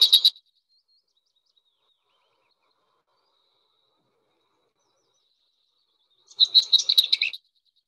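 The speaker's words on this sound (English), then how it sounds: "So that's the lesser white throats." A lesser whitethroat sings in two bursts: a very short chirp at the start, then after a long silence a rattly, chattering phrase of about a second, clear and fairly close.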